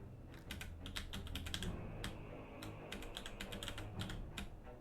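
Computer keyboard keys clatter in quick, uneven bursts and single taps while playing a rhythm game in Genshin Impact, close and fairly soft over a low background hum.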